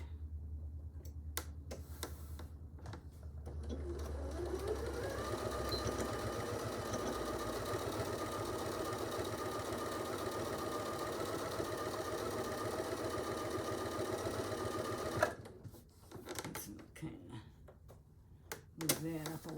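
A sewing machine stitches an artist case pouch together with a steady, close mechanical whir that runs for about ten seconds, then stops, leaving scattered handling clicks.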